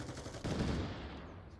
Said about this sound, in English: Milwaukee is here and does take shots, almost scoops up the headshot